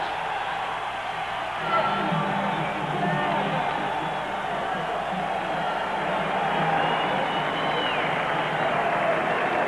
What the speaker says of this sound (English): And the crowd responds.